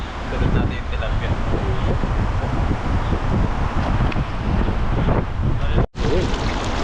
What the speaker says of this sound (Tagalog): Grabe po yung hangin.